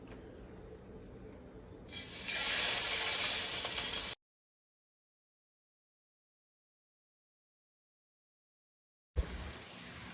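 Seasoned steak strips hit hot oil in a pan with a sudden loud, bright hiss that holds for a couple of seconds, then cuts to silence before briefly returning.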